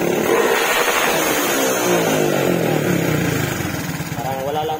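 A Raider J115Fi motorcycle fitted with a 54mm throttle body starts with a single click and settles into a loud, steady idle, close by, with someone talking over the engine.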